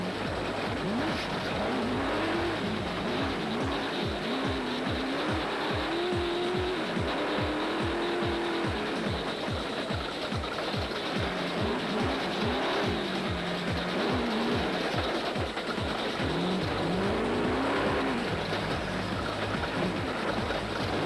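Rally race car engine on the Limpopo 400, a Total Motorsport Porter, roaring continuously and loud throughout with repeated rising and falling revs as gears change, heavy rumbling low end and broad road or wind noise, no voices.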